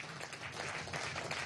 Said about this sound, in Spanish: Un aplauso desde aquí,